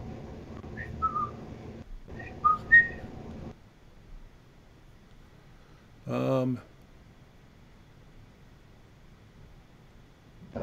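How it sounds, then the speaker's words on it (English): A person whistles a few short, faint notes over low room noise and murmured talk in the first few seconds, followed by quiet and one brief spoken burst. "I'm just whistling."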